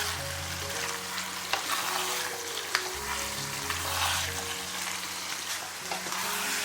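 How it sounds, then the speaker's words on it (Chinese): Dried preserved mustard greens simmer thickly in a pot while being stirred nonstop to keep them from sticking, a close continuous sizzle and bubbling with occasional scrapes, with no talk. "后面水慢慢收干的时候呢，就要不停的翻动，避免粘锅。"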